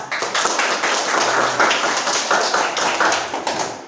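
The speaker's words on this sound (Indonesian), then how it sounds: "Tepuk tangan untuk bunga mawar." Students clapping together in a classroom, a close, steady patter of hands that swells and fades in short rhythmic waves for a few seconds.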